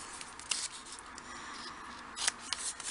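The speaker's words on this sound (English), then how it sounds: "I'm just going to have to trim this extra piece off there as well" Scissors trim the edges of paper card for a fairytale mini album, giving a few quiet, close snips and rustles, with sharper cuts near the start and again toward the end.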